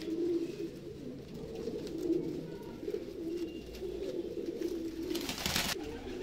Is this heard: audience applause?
no